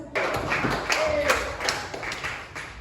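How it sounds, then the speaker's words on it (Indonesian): Scattered audience clapping at a seminar on mental health and problem solving: a thin, uneven patter of individual claps with a few sharper hits, continuing for about three seconds at moderate loudness. "Mari kita berikan tepuk tangan yang meriah untuk Kak Sindriani Borbarus"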